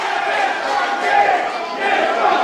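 A wrestling crowd at an IWA East Coast deathmatch chants loudly for Nick Gage, a dense, steady roar of many voices swelling in rhythmic waves.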